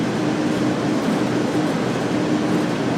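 A BNSF ES44C4 diesel locomotive hauling a freight train up a 0.7% grade out of Barstow toward Victorville in Train Sim World 3, a steady, loud, droning engine rumble with constant rolling rail noise.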